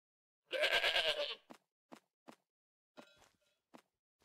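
A sheep in the video game Minecraft gives one loud, close, wavering bleat lasting under a second, followed by a string of short, sharp thuds and clicks of in-game movement at an uneven pace.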